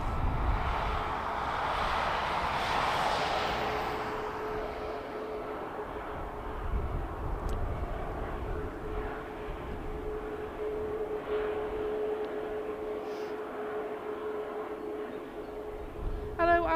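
An aircraft at Manchester Airport produces a broad, distant jet roar that swells and then slowly fades, with a faint steady hum and soft background noise under it and a brief voice at the very end.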